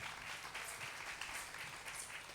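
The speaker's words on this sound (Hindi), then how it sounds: "जी के लिए जोरदार तालियां चाहूंगा" Applause from an audience at a Jain Kshamavani gathering with Acharya Shri Pramukh Sagar Ji Maharaj in Belgachia, a steady, fairly faint wash of clapping that continues without a break.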